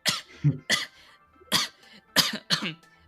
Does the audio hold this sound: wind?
no